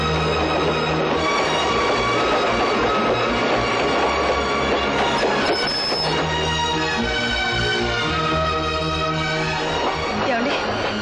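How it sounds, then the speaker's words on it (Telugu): A passenger train in a Telugu film scene rumbles as it pulls away, a steady heavy drone of engine and wheels filling the whole stretch. Voices are mixed in under the noise. "బండి కదులుతోంది నువ్వెందుకు లేచిపోయావు జ్యోతి"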